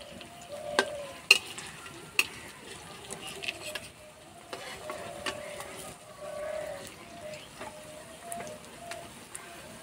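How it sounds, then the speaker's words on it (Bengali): Potato and rice snack patties fry gently in oil over low heat, giving a soft, steady sizzle broken by occasional sharp clinks of a spoon or spatula. It is close and fairly quiet, with no talk. "এবার নাস্তাগুলো ভেজে নেব"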